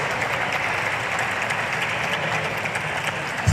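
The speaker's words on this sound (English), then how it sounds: "How about we give them a round of applause as we head back to class?" Audience applause at a school ribbon-cutting ceremony, a steady wash of clapping from a crowd that holds at an even level for the whole stretch.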